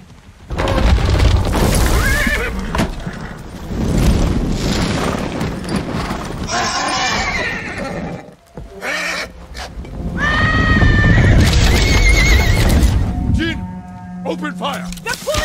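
Horses whinny in the samurai video game Ghost of Tsushima amid battle noise and booming explosions, with shouted voices over the loud, dense mix.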